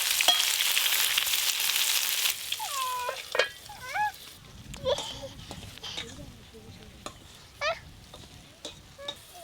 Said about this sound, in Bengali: বেগুনও ভাজা হবে আর ডিমের ভেতরে যেটা দিয়েছে এটাও ভাজা হবে একসঙ্গে।